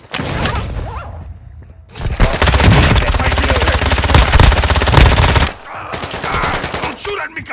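Automatic gunfire in a video game, a loud sustained burst of rapid shots lasting several seconds, followed by quieter scattered firing.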